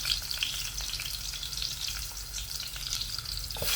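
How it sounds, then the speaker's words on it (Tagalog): Onions sizzle and fry steadily in a hot pan alongside garlic for pork adobo, a dense continuous crackle with occasional faint stirring, close and fairly loud, with no voices. "Pwede natin ilagay yung ating sibuyas."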